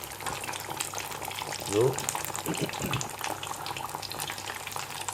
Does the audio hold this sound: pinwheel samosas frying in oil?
yes